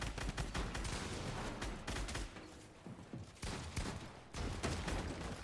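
Dense, rapid bursts of gunfire rattle through a battle royale video game fight in a competitive duos final, with sustained automatic volleys broken by brief pauses.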